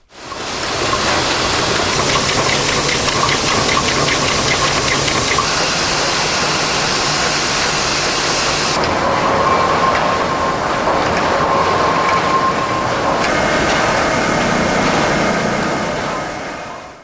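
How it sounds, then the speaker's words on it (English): A 19th century French engine drives a bagasse carrier at a sugar mill in East Java, giving a loud, steady mechanical rumble and rattling clatter that runs unbroken throughout with no talk. "The bagasse carrier is powered by a 19th century French engine."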